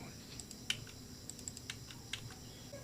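Fingers type on a computer keyboard in quick irregular clicks, close but soft, over a low steady room hum with faint speech.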